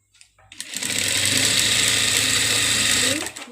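Sewing machine stitching an Afghani salwar, a steady close mechanical whir that starts after a brief pause, runs continuously for about three seconds, then stops.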